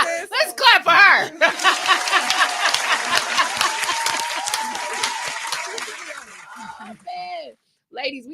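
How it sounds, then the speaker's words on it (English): Audience clapping at a podcast recording, a dense burst of applause lasting several seconds that fades out, with voices and laughter before and after. "Let's clap for her."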